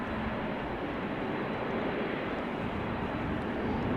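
A Saudia Boeing 787-9 Dreamliner in special National Day livery arrives at Amsterdam Schiphol from Jeddah, heard as a steady, fairly distant broadband engine roar that holds even throughout, with no voices.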